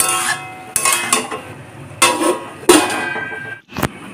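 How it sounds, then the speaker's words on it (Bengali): Okra with salt and turmeric is stirred in a pan, a handful of loud, close scraping and clanking strokes against the metal at irregular intervals, with a faint sizzle between them and no voices. "ভালো করে ঢেঁড়সটাকে নুন আর হলুদের সাথে নাড়াচাড়া করে নেব"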